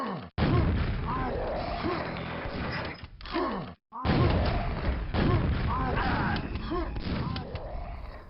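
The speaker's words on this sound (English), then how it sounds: "How about some rockets?" Rocket explosions in the video game Quake during slope-jump speedrunning, several heavy booming blasts in quick succession with thumping impacts, loud and close, with a brief gap midway.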